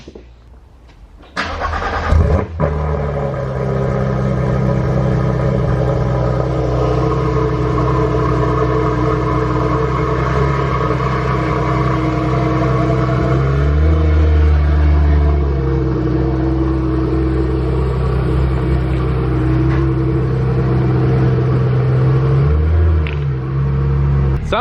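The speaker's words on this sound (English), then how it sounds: "Now we get to go rip around and hear the new exhaust sounds." A Porsche 991.2 GT3RS fitted with new catless headers and exhaust starts up and idles loudly close by, its deep rumbling exhaust note holding steady with a few brief revs rising and falling, with no talking.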